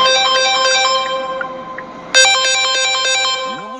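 A telephone ringtone plays a loud, bright repeating electronic melody, pausing briefly and then starting again even louder, with no voices present.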